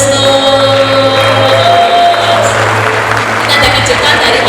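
Crowd clapping at a birthday celebration during a company family gathering, a steady wash of applause mixed with background music and chatter, close and loud throughout.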